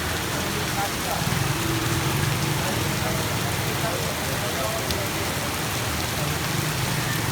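Heavy monsoon rain pours down steadily for the whole stretch, a dense, loud, unbroken hiss of water hitting the ground, with no voices or other clear sounds standing out.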